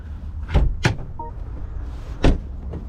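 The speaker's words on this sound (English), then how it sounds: "We can open the hood." The hood of a 2023 BMW X1 opens with a few sharp, close clunks and a latch click, followed by a softer knock, with no talking.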